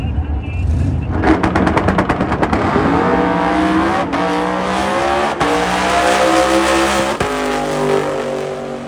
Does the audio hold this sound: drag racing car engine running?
yes